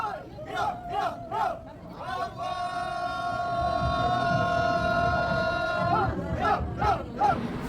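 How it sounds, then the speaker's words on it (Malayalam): A festive crowd at a Kerala-style engagement gives rhythmic ululating cheers and shouts as the bride enters, then rises into a long sustained collective holler before returning to bursts of cheering. "ആർപ്പ് വിളിയോ ആരവോ ഒക്കെ ആയിട്ട് ദിവ്യയെ നമ്മളകത്തേക്ക് കയറ്റി"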